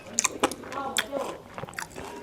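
Close crunching bites into a crispy homemade samosa, several sharp crackly bites and chews in quick succession, with a voice speaking between them.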